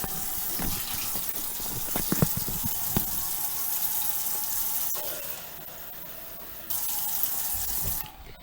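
Cold water runs steadily from a kitchen tap into a cup, a constant close gushing stream with a few clinks near the start and a brief louder surge before it cuts off.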